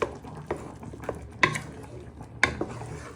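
A spoon stirs chorizo and tomato spaghetti sauce in a pot, giving a few soft scraping clinks against the metal spaced about a second apart, close and fairly quiet.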